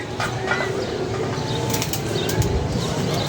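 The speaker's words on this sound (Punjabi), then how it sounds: "ਨਿਕਲ ਗਏ ਨੇ ਕਬੂਤਰ ਉੱਚੇ" A flurry of wing flapping as pigeons take off and fly high, mixed with outdoor ambience and faint background noise throughout.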